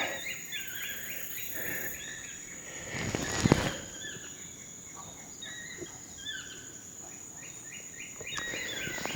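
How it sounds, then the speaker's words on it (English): A toucan calls in the distance behind a home workout, with repeated short croaking notes recurring through the clip over a steady hum of insects, plus a few faint bumps and a brief louder knock. "hear that bird in the background, but that is a toucan."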